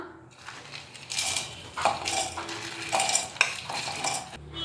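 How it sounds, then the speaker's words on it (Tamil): Peeled peanuts for peanut chutney tumble into a mixer grinder jar in a few rattling bursts, with light clatter of utensils close by and no talking. "இப்போ ஜாரில் கடலை சேர்த்துக்கலாம்"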